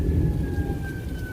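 Tornado siren wailing in the distance during a windy, rainy thunderstorm, a steady sustained tone over heavy low rumbling rain and wind.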